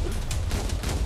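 Rapid bursts of gunfire in a Peruvian-city bus-driving video game, a dense fusillade of shots crackling steadily across the whole moment, loud and close with no talk over it.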